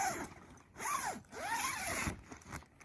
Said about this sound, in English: Make sure the zipper closes again.